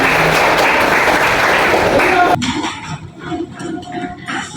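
Applause from a class of students in a classroom, broad and dense for about two seconds, then cutting off into quieter room shuffling with scattered small noises.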